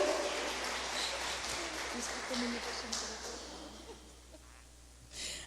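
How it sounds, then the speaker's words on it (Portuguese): Applause for pastor Carol at a church gathering: a steady wash of clapping from a crowd, moderately loud and sustained, slowly thinning toward the end with a brief swell at the close. "Dá um aplauso para a nossa querida pastora Carol"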